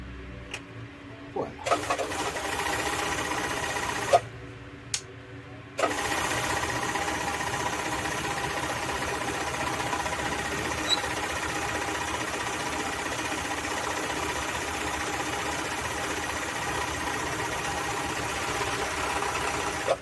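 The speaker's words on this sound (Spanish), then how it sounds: "Ahora está cosiendo la seguridad y el overlock está haciendo." An overlock serger sewing machine stitches sacks, starting with short bursts, then running in a steady mechanical hum with fast vibration, close and continuous and briefly stopping early on.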